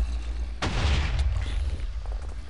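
A Minecraft TNT cannon fires in a sudden heavy boom that carries a low rumbling tail, and fainter thuds and pops follow it.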